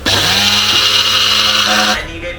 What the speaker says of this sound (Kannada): ಅದನ್ನು ಮೊದಲು ಬ್ಲೆಂಡರಲ್ಲಿ ಪೌಡರ್ ಮಾಡ್ಕೊಂಬೋಣ